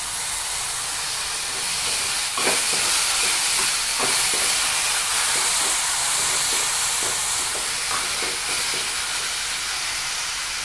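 Chopped tomatoes hit a hot pan with chillies for Dhaba-style sev tamatar, giving a steady loud hiss of sizzling broken by faint scattered pops and crackles throughout.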